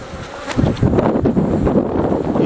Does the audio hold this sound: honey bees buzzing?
yes